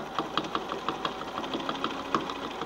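A sewing machine stitches binding onto a quilt in steady, close, rhythmic pulses, with soft mechanical ticks running under the motor hum.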